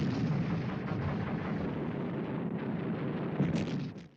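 WWII Japanese artillery fire on Iwo Jima, a continuous rumbling roar of barrage and blasts, loud and sustained for several seconds before tapering off.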